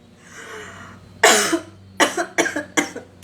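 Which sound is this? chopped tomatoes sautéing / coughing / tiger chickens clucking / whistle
coughing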